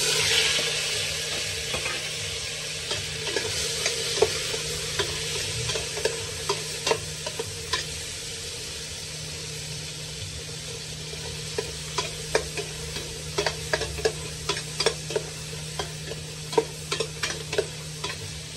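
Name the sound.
sautéing garlic, onion and tomato in oil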